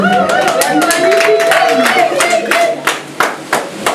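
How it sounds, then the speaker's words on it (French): Applause at a traditional wedding as two women walk, a crowd clapping steadily under loud talking and chatter, with the claps growing sharper and more distinct toward the end. "applaudissez d'abord que les deux femmes marchent"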